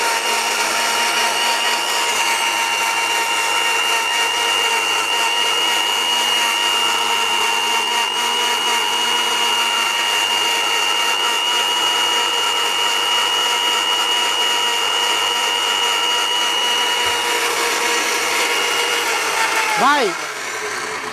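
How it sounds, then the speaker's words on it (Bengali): A large 2000–2300 watt commercial blender runs continuously at high speed, a loud steady whining motor drone with a bright high pitch, winding down at the very end. "এই ব্লেন্ডারটা তিরিশ থেকে চল্লিশ সেকেন্ড মাত্র সেকেন্ড তিরিশ থেকে চল্লিশ সেকেন্ড ব্যবহার করবেন"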